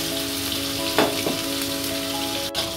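A paste of ground ginger and green chili fries in a pan with a steady, even sizzle, and a couple of soft stirring scrapes stand out over the hiss.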